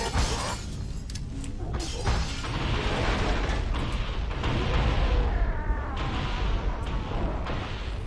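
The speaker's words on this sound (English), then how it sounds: "So many explosions" Loud, continuous barrage of explosions and shattering blasts in Halo (Cursed Halo mod) on the Silent Cartographer level against plasma-armed elites, with booming impacts and debris crashing over a dense rumbling bed throughout.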